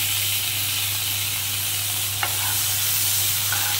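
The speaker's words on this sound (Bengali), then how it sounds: "বাদামটা একটু নেড়ে চেড়ে আমি এক এক করে সবটাই মিশাতে থাকবো।" Peanuts with chopped onion and green chili get stirred in a hot pan, a steady sizzle and hiss with a single sharp scrape of the spoon midway, close and alone.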